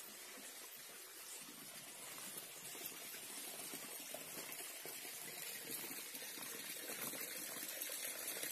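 Water from a spring source running steadily outdoors at a tourist spot in Dhanpuri, Shahdol district, a constant broadband rush with no clear breaks, fairly faint and distant-sounding throughout.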